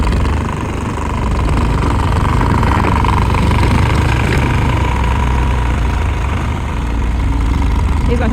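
Tractor engine pushing snow during a snowstorm, a close, loud and steady low rumbling drone that holds throughout with slight swells in intensity.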